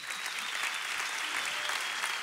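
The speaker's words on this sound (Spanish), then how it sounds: "aplauso al Señor" Church congregation applauding to the Lord, a full, sustained roar of clapping from a large crowd, steady and loud throughout with no speech on top.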